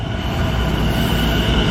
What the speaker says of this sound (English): So here comes the next train.